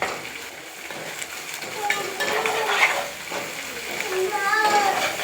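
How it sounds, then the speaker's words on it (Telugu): Green chillies frying with ginger garlic paste in a pan for cauliflower curry, heard as a continuous close sizzle with occasional stirring scrapes and light clinks of a utensil. "పచ్చిమిరపకాయ ఫ్రై అయిన తర్వాత అల్లం వెల్లుల్లి పేస్ట్ వేసి ఫ్రై చేయాలి"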